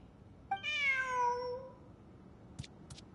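A cat in the video game Genshin Impact lets out a single clear, drawn-out meow lasting about a second, followed by two short faint clicks against a quiet background.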